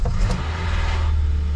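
Car engine cranking and catching, a short burst of starter whir followed by a low, steady rumble as it settles into running, close and loud.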